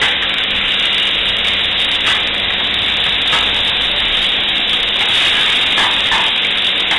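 Meat sizzles steadily in a paella pan for Paella Valenciana, a loud, continuous frying hiss with a few small pops and no talking.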